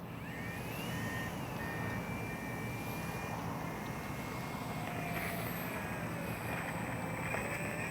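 An X-Fly Spitfire RC model airplane flies overhead, its electric motor whining steadily at moderate distance with shifting pitch as it passes, over constant wind noise outdoors.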